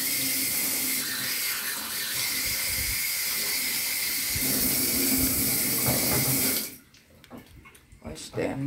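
Running tap water gushes steadily and loudly as ginger and turmeric are washed under it, then cuts off near the end, leaving soft handling noises.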